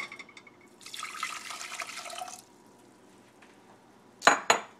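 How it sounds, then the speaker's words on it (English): Water is poured into a pan for homemade liquid laundry detergent, a brief splashing rush lasting over a second, followed by quiet and two sharp metallic clanks near the end. "2 cups of water."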